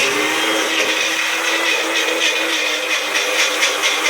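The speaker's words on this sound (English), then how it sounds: "Okay, well, you just blend" A countertop blender whirs steadily while blending BBQ sauce ingredients into a liquid, a loud, close, continuous high-pitched motor drone with a slight fluttering rattle and no talking.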